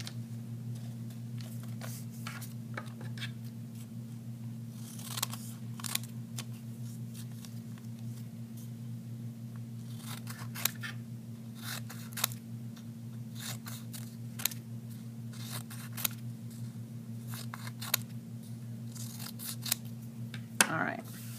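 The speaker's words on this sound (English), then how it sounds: "so we can stack them and cut them out together, which makes it quicker" Scissors snip through stacked paper word cards in regular short clicks about every one to two seconds, fairly faint over a steady low electrical hum, with no talking.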